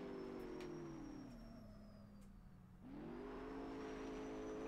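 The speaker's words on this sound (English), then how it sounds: "I love the sound of this car. The noises, like the engine noises and everything" A car engine in a detailed Forza-style Roblox racing game, revving high, dipping as the throttle eases, then climbing again in a smooth whine, steady and fairly close, with no talk.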